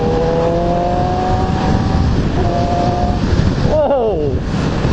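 A Yamaha R6 motorcycle revs in sporty mode, its engine note rising and falling in steady tones under heavy wind rush, with one quick rev sweep near the end.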